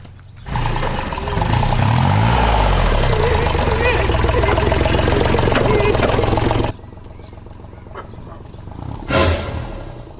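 A tractor engine idles loud and close with a steady low rumble for about six seconds, then cuts off abruptly, leaving quieter room noise with a brief bump near the end.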